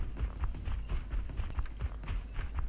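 Horse hooves gallop in the battle-royale game PUBG Mobile, a fast rhythmic clip-clop of repeated hoofbeats at close range, steady throughout with no talking.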